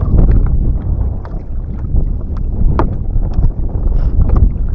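Steady splashing and churning of water as a boat is paddled along, gusts of wind buffeting the microphone throughout, no voices.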